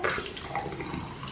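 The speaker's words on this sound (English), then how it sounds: "I'm gonna pour it straight to the cup." Thick beetroot smoothie pours steadily from a blender jug into a cup, a soft continuous liquid splash at close range with no voices.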